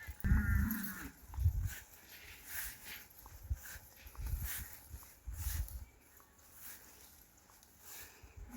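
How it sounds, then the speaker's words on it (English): Cattle on a livestock farm in northern Ghana low and moo in a few soft, scattered calls, fairly distant and faint against a quiet outdoor background with light rustling. "All my female cattle are pregnant, including some of the ones that has babies."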